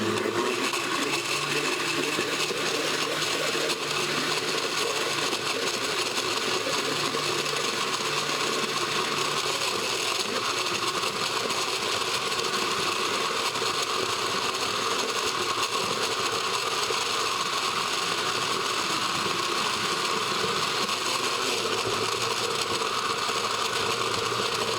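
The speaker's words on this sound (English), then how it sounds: "Allow the coconut pieces to blend in the water for between 3 minutes." Kitchen blender running steadily as it blends coconut pieces in two cups of water for Ital cornmeal porridge, a continuous whirring motor drone with a rattling edge that holds for the whole stretch with no talk.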